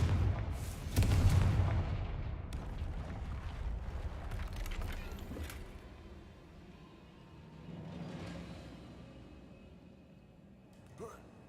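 A Confringo fire spell cast in a Harry Potter video game, erupting as a loud booming blast with rumbling low roar that swells early and then slowly fades into game ambience, with a smaller crack near the end.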